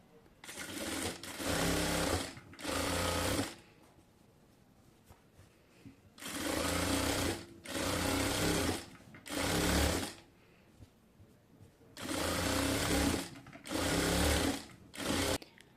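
A sewing machine stitches the side-slit hem of a pant-cut salwar cuff, running in several quick rhythmic bursts grouped into three clusters with short pauses between them, close and steady, with no voices.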